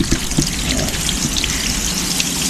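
Steady patter of water drops falling onto a surface, continuous and close, like dripping runoff or light rain, from over-watered plant soil that can no longer absorb it.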